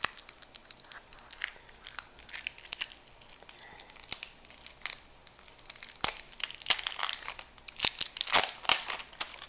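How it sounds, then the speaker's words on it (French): Plastic packaging around a diamond painting canvas being torn and unwrapped, a busy run of crinkling, crackling and ripping sounds in quick irregular bursts, close and fairly loud throughout, with no talking. "je vais ouvrir la toile"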